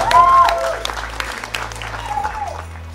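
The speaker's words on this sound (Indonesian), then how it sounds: "Tepuk tangan untuk anak-anak muda." Audience applauding young people during an influencer meetup in Makassar, scattered claps over a strong tonal drone and music-like tones, starting loud then thinning out.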